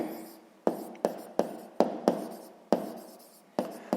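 Pen on paper while working a sixth-grade maths exercise: a series of quick, close scratching strokes, each starting with a sharp tap and trailing off, in an irregular rhythm.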